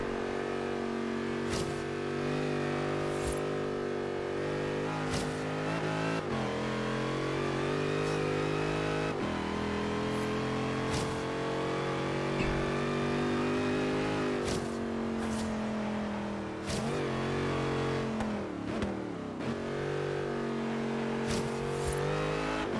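Mercedes C63 AMG V8 engine in Forza Horizon 3 revving hard through repeated gear changes, a steady loud roar climbing in pitch and dropping at each shift, with no talk over it.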